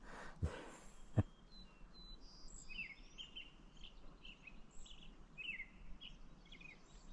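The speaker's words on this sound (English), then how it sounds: "All the birds are singing." Birds sing and chirp around Loon Lake on the Yamnuska trails in June, with scattered high calls over a steady insect-like background hum and two sharp thumps near the start.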